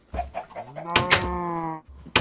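A rooster in the Minecraft video game gives a few short, close clucking calls with a rising, drawn-out squawk in the middle, heard alone without talk.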